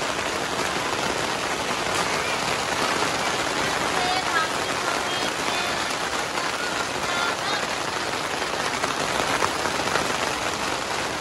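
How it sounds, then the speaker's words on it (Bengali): Steady rain pours down in a dense, even hiss of drops striking surfaces, constant throughout with no pauses. "বৃষ্টি পড়ছে"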